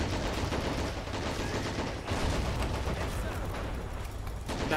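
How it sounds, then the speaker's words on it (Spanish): Artillery fire in the video game Men of War: a dense, continuous barrage of booming shots and crackling gunfire that fills the whole stretch at a steady, loud level. "La mierda de artillería."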